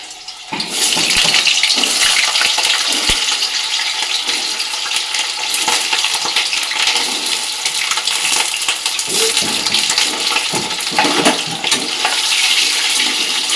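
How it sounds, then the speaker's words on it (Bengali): Chital fish balls frying in hot mustard oil, a loud, steady broadband sizzle and crackle that runs almost the whole time, close up, with no voices. "এবার চিতল মাছের যে মুইঠাগুলো এবার এক এক করে এগুলো ভেজে নেবো"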